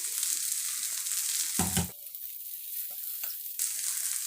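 Spicy masala bread omelette frying in oil on a pan, a steady broadband sizzle with a short louder scraping burst midway, then a brief quieter stretch before the frying hiss resumes.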